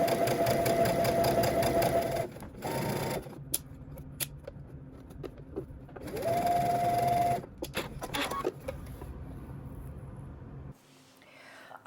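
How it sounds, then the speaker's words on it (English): Sewing machine stitching fabric close to the edge of a dress bodice piece, with bursts of whirring motor hum broken by pauses, clicks and handling noises between runs. "now we're going to head to the sewing machine and you're going to stitch close to the edge"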